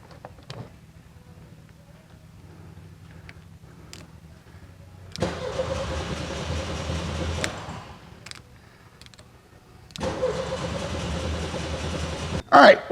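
A 1979 VW Super Beetle with a fuel-injected engine, back after years off the road, cranks and catches. It runs in two rough bursts separated by a lull, with a low idle rumble before it, and a sharp clatter closes the clip.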